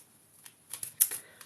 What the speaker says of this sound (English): Okay, let's shuffle the moon cards.